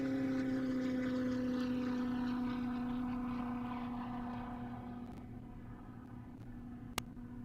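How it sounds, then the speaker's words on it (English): A blown V4 vintage fuel competition coupe, a 1933 Austin American, running at Bonneville on a record attempt, a steady droning engine note that slowly fades into the distance, with one sharp click near the end. "that is V4 blown vintage fuel competition coupe"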